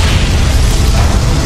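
A particle cannon blast in the Command & Conquer Generals video game is a loud, dense roaring rumble that holds steady for about a second and a half.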